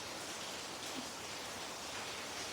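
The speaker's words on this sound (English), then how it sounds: "it's raining today. There's a major storm coming through, and we're gonna have heavy rain." Heavy rain during a major storm, a steady broadband hiss with no distinct drops, constant and fairly loud throughout with no voices.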